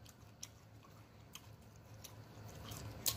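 Chewing boiled chitterlings close to the microphone, soft wet squishy bites and occasional sharp clicks over quiet background, faint and intimate.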